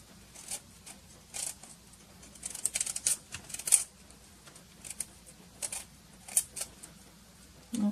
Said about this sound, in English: I'm going to just take my knife and just cut off the edges until all that green is gone